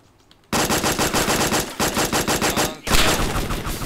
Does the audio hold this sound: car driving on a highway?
no